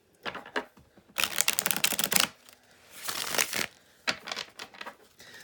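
Tarot cards being shuffled in several bursts of crisp riffling and slapping, close and fairly loud, separated by short pauses with no talking.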